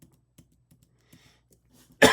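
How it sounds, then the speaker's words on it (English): Near silence with faint scattered clicks, then one sharp, loud cough bursts in right at the end. "Oof, all the coughing again."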